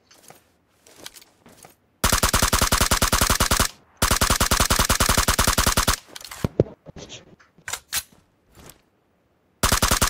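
Rapid full-auto M416 rifle spray from BGMI, loud sustained bursts of evenly spaced shots separated by brief pauses, with a few scattered single impacts and other game noises between the volleys.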